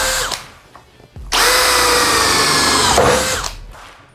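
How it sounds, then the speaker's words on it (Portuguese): A Bosch GSB 185-LI cordless drill bores through a rectangular metal tube with a 6 mm high-speed steel bit. A short start-up is followed by a loud, steady whining drone of about two seconds, which winds down as the bit breaks through. "Agora perfuração e metalão, começando com broca de aço rápido de 6 mm."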